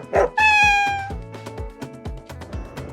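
A cat at a pet-friendly farm resort meows loudly and up close, one long drawn-out call followed by a series of shorter, choppier sounds and clatter.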